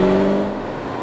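A Ferrari 812 Superfast V12 with the roof off snarls through a downshift, a loud close tonal engine blip that fades quickly into a lower rumble within a second.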